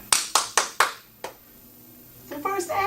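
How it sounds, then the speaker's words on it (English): An audience at an on-stage event gives four sharp, evenly spaced claps and then one more, fairly close, followed by a quiet pause and then voices. "They clapping and screaming."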